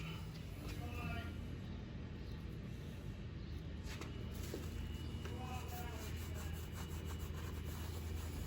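A chisel scrapes dried wood glue off a wood surface. It makes repeated dry rasping scrapes at close range over a constant low rumble, and a voice speaks now and then.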